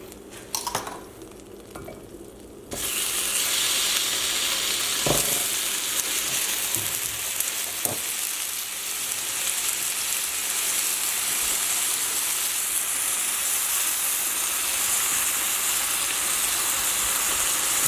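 Chicken fries in a hot pan with a loud, continuous sizzle that jumps up suddenly after a quieter start, joined by occasional clinks and knocks of a utensil against the pan.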